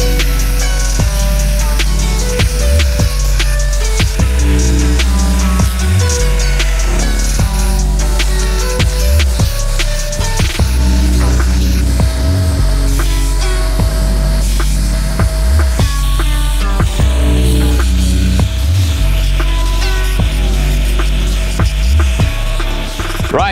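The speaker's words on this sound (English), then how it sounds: "We're gonna grind this into a little bit of an interesting shape before it is we work on our inlay" Steel peen block for a falchion sword being ground into shape, a loud continuous abrasive whine with a droning hum and regular pulsing bumps throughout, no voices.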